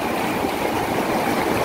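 Flooded Rio Salgado in Icó, Ceará, rushing past as a loud, steady roar of churning water with no break.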